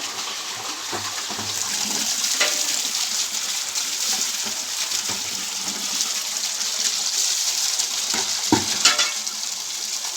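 Rice cooks on a clay stove, a steady bubbling, hissing simmer that stays close and constant, broken by a few soft knocks and clinks.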